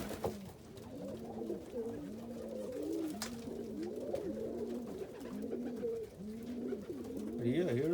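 Pigeons cooing inside a loft, including an almond cockbird sitting on eggs, a steady run of overlapping rolling coos close by, with someone talking quietly at points.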